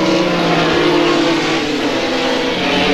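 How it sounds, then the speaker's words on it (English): Formula Holden race car at Mallala circuit in 1989, a loud sustained high-revving engine whine as the car passes close, steady and unbroken with no talk over it. "There's second place going through, Peter Glover."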